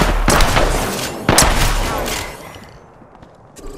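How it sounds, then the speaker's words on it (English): Video game gunfire in a shooter, two loud sharp blasts with reverberating tails close by, fading into quieter background noise. "I'm taking shots."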